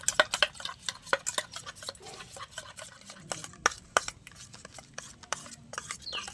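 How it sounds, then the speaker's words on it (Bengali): A spoon clicks and scrapes against a small bowl, stirring rice flour with other face pack ingredients in quick, uneven taps and rubs, close up and fairly quiet with no talking. "এইভাবে আমি একবার মিশিয়ে নেবো সব উপকরণগুলো।"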